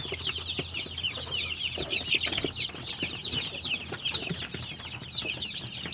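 Newly hatched free-range chicks peep in a dense, continuous high chorus of overlapping chirps, fairly close and steady throughout, with no talking.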